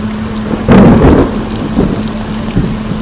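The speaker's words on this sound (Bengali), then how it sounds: "এরকম বৃষ্টি দেখিনি আর এরকম বাজ পড়া দেখিনি" Loud crack and rumble of nearby thunder over steady heavy rain in the Sundarbans, with a second fainter rumble after it; no one speaks.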